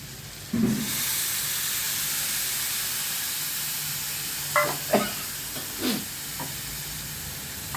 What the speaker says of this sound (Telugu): దీంట్లోకి ఇదిగోండి చింతపండు పులుసు